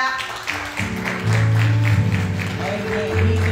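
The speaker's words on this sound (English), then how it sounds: "Let's give God a hand clap." Worship-service congregation clapping in rough rhythm while sustained organ or keyboard chords and a singing voice carry on loudly over it.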